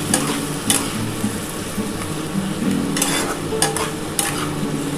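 A masala sautés in a pan after a splash of spice water, giving a dense bubbling sizzle with a few sharp scraping strokes of a spoon, loud and close with no talking.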